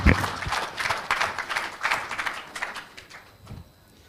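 Audience applause at a press conference, a burst of many hands clapping that peaks early and gradually fades over a few seconds, with no voices on top.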